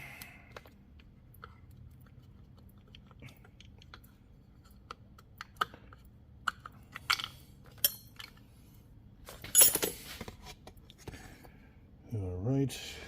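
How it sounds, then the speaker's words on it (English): Bolts being removed from a ported Stihl MS460 chainsaw give scattered small metallic clicks and clinks at close range, a few sharper knocks among them, with quiet shop background and a voice briefly heard near the end. "So, get these bolts out of here."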